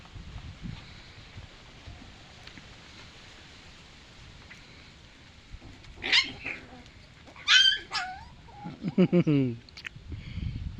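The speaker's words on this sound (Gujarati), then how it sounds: "ને અત્યારે હાઈ ક્લાસ રીતે મસ્તીમાં સર્યા છે ગલુડિયા" Young puppies at play give a few short, high whimpering squeals and yelps in quick bursts over a low background hiss, fairly close and otherwise quiet.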